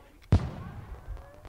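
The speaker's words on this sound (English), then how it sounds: "Oh, wow. Fireworks." Fireworks go off in The Sims video game: one sharp, punchy burst followed by a short fading rumble and faint scattered crackles, against an otherwise quiet background.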